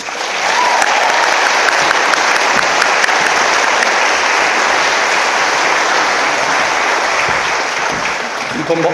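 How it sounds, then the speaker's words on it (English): A large audience at a company core values celebration applauds, a loud, dense, sustained wash of clapping that holds evenly for nearly nine seconds. "Keep applauding for our HR, safety, benefits, and legal team, core values"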